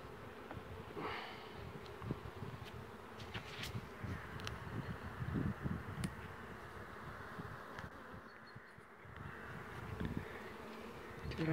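Honeybees buzz at an open hive frame, a steady, dense drone of many insects close by with brief louder passes, quiet throughout and without speech.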